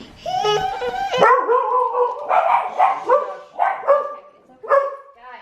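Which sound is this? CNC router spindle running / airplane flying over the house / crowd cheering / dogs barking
dogs barking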